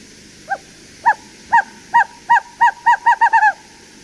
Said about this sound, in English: The way it descends is a bouncing ball.